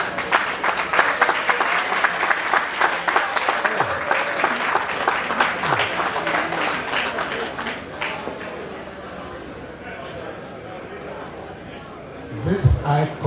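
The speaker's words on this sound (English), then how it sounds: "let's clap for Omega" Audience clapping steadily at a celebration of life, loud and sustained for several seconds, then thinning out as a voice begins to speak over the fading applause.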